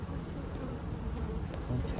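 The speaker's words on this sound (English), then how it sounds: "Too many bees in too small a space" Honey bees in an overcrowded hive hum in a steady, dense low drone that fills the clip, close and continuous, with no clear voices over it.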